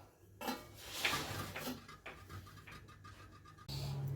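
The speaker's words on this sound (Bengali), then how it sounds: "আমি এবার এটা ঢাকা দিয়ে রেখে দেবো।" A metal lid set onto a pot of amla candy, with clattering and scraping of cookware, a sharp clink near the end, fairly quiet and close, no talking.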